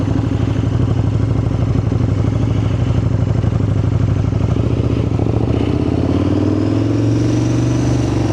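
A KTM 1290 Super Duke R Gen 2 engine rumbles loud and close as the motorcycle turns round on an estate, a steady throbbing idle with throttle blips and a rising rev toward the end.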